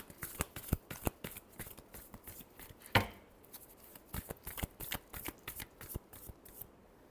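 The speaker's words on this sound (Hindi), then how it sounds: "last shuffle" Tarot cards shuffled in quick rapid riffles and slaps, a dense run of sharp papery clicks with one louder snap midway, close and clear with no talking.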